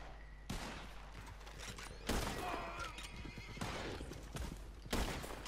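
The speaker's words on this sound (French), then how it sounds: "le cheval qui me gêne" A horse in the Red Dead Online video game whinnies and snorts several times amid hoof clatter and bursts of gunfire, all fairly loud and close.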